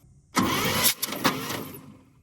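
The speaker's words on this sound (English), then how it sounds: "I am going to touch the test lead to the battery to spin the motor" A starter motor cranks the six-cylinder engine of a 1962 International C-100 in a short loud burst with a couple of uneven surges, then fades out; close up, no voices.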